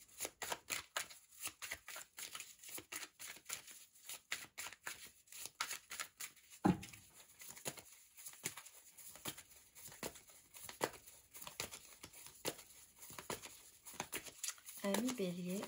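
Tarot cards handled and shuffled at close range, a steady run of crisp riffling flicks and soft paper slides repeating throughout, with someone talking quietly over them in French.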